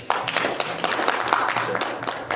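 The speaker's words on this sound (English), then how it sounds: "Please give a round of applause to them." Audience at a Canadian meet-and-greet political event gives a round of applause, a short burst of dense, many-handed clapping that stays fairly steady throughout.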